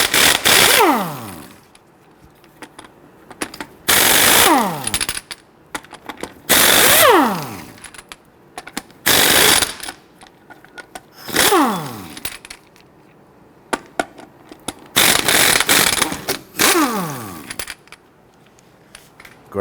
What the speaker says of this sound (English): using a 19mm socket, I want to go ahead and loosen and remove your lug nuts